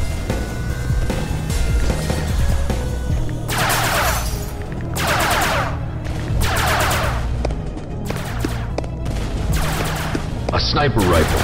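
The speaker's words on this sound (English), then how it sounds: "A sniper rifle." Video game gunfire with repeated loud, sharp rifle shots spaced a second or two apart over a busy, rumbling game background, with voices talking throughout.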